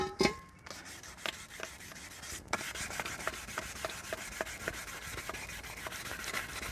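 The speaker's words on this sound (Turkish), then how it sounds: "Tek tek kolların hepsini zımparalıyoruz arkadaşlar." Sandpaper rubs back and forth on a wheel rim's spokes in quick, regular strokes, close and fairly quiet, with a couple of louder scrapes near the start.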